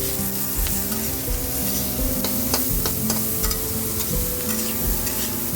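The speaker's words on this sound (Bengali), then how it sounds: "এটা একটু ভালো করে ভেজে নেব" Salt and green chili fry in a pan with oil, a steady close sizzle under repeated scraping and stirring strokes of a spatula, with no talk.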